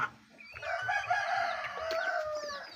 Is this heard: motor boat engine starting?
no